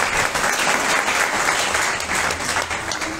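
Temple congregation at Sri Siddha Baba Mandir clapping together, a dense burst of applause from a gathered audience, loud and sustained throughout with no clear speech over it.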